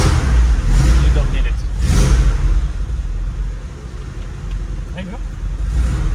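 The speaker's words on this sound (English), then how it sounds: "if I was to start the car now that it's hot, I don't have to put the choke" Hot Lada Niva 4x4 camper engine started without the choke, settling into a steady idle hum up close while someone talks over it.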